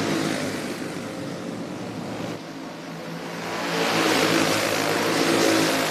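Racing karts of the Clone Super Heavy class revving through warm-up on the Daytona flat track: a continuous buzzing engine roar that dips briefly, then swells louder as the karts pass near.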